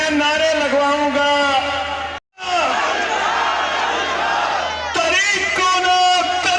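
Crowd at a political rally shouting slogans in loud unison, with bursts of massed voices and a brief cut to silence before the chanting resumes, strong and close throughout.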